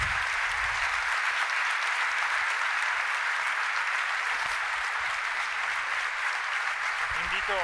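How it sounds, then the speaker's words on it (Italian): A large audience claps for a professor at an Italian live event, a loud, steady round of applause from many hands that continues evenly, with a voice briefly emerging near the end. "un altro grande applauso al professor Paolo Crepè"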